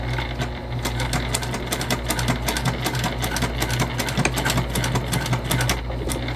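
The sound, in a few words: sewing machine stitching a backpack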